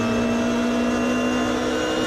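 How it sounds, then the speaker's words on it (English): Ultima race car engine in Automobilista 2 at Daytona, a loud, steady high-pitched drone held at constant revs throughout, close and continuous with no talk. "I think it's one of the Ultimas by the sounds of it."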